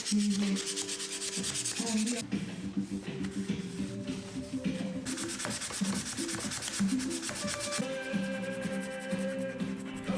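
Steel wool scrubs rust off an old metal vice, giving a continuous close abrasive rasping and rubbing with shifting strokes, mixed with faint mechanical hum in the background.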